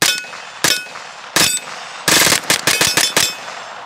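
A KP-9 blowback pistol-caliber carbine fires loud, sharp shots, first three spaced single reports and then a rapid burst of about six, with no talking.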